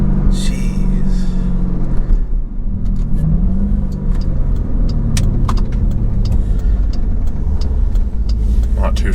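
A built Jeep Trackhawk roars hard in first gear with the driver shifting manually, a loud, steady engine drone heard from inside the cabin while occupants talk over it.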